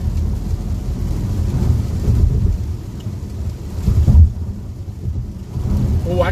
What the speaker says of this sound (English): We found more rain.